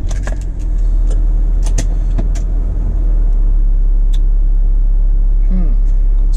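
A car with a throttle position sensor fault drives on the road, its engine making a steady low rumble with occasional clicks and knocks from the cabin.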